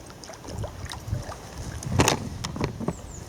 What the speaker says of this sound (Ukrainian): бо вітер, хвиля, мене теліпає, воно на одному якорці